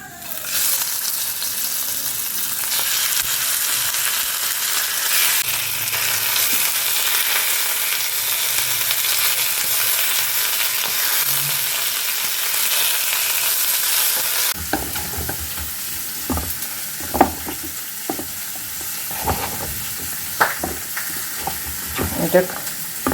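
Fish frying in hot oil in a home kitchen, a steady loud sizzle that holds for most of the time, then quieter sputtering broken by sharp crackles and pops near the end.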